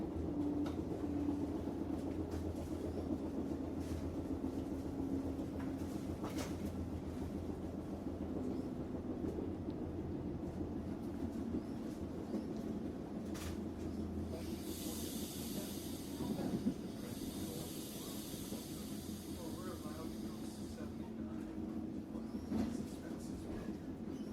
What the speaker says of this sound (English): I will just let this ambient train noise record for a minute so I can overdub it later